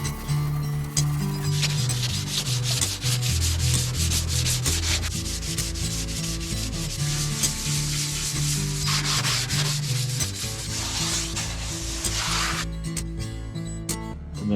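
Hand sanding on the fiberglass body of a Mk1 Escort car produces a close, continuous scratchy rubbing, with rapid back-and-forth strokes that keep up steadily and cut off near the end.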